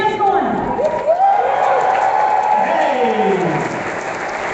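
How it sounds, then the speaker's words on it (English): A large crowd at a presidential candidate forum in Iowa claps and cheers loudly and continuously, with a single shouted cheer and voices rising over the sustained applause. "let's get some chants going"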